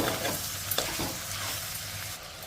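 Onions and eggplant frying in a pan, stirred with a few scraping strokes near the start over a continuous close sizzle that carries on steadily.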